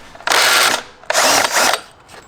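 Power tool spinning out T30 Torx bolts on a 2008 BMW 550i, heard as two loud, close bursts of whirring, each lasting roughly half a second with a short pause between them.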